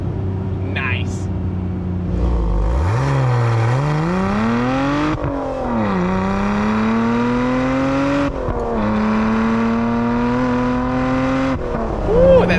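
Lotus Emira sports car engine revving up through several rising pulls heard from inside the cabin, loud and close with a strong rising whine between short gear-change dips, and a person whoops briefly near the end.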